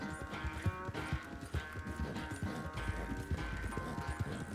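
Rapid clip-clopping hoofbeats of galloping horses in the video game Red Dead Redemption 2, steady and close, with a low rumble of movement underneath and no voices.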